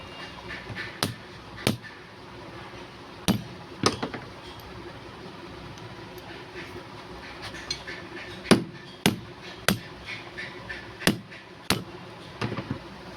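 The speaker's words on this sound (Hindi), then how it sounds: "यहाँ पे थोड़ा हथौड़ा मार लेना चाहिए।" Hammer blows knocking the lock of a car starter motor into place during a home repair, heard as a dozen sharp metallic taps at uneven intervals over low background noise.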